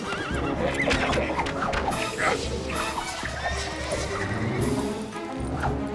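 Several horses neigh and whinny close by with clip-clopping hooves beneath, amid a tense period-adventure ambush on a rough road, steady and loud throughout with some shouting mixed in.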